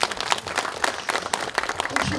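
Lecture audience applauds, giving a dense, steady patter of many hands clapping throughout, fairly close and unbroken for the whole brief stretch.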